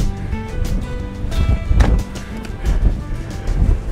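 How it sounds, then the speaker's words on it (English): Strong wind buffets across Meelbeg Ridge in the Mourne Mountains, roaring in loud, continuous gusts close to the microphone. "this is near impossible in this wind"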